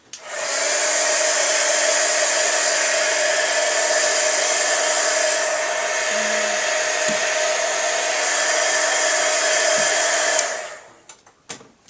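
A heat tool blows steadily over a layered craft project with rain-drop effects, a loud, constant whirring hiss that runs for about ten seconds before cutting off, followed by a few light handling clicks.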